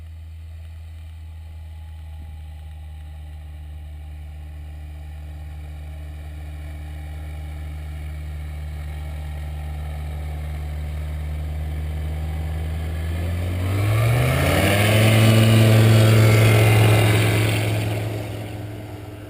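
A Zenith STOL light aircraft on skis idles with a steady low engine drone in snowy Alaska, then revs sharply for its takeoff run, rising to a loud, higher-pitched roar that peaks and begins to fade as it moves away.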